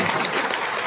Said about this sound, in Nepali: उहाँको लागि जोरदार ताली बजाइदिउँ